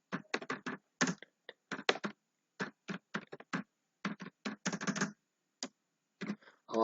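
A C program being typed on a computer keyboard, close and clear, with quick clusters of key clicks broken by short pauses and no speech.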